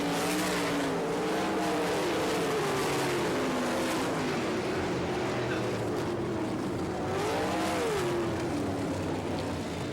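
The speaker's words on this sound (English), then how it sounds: "Here he comes down the front stretch, picking up night number 1, Joey Saldana." A sprint car races down the front stretch at Volusia Speedway in Barberville, Florida, during an All Star Circuit of Champions Speedweek event. Its engine roars loud and steady, the pitch rising and falling as it accelerates past.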